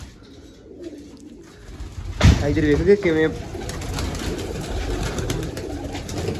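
Pigeons coo in a loft, soft throaty calls rising after a sudden rustle, with someone speaking over them close by.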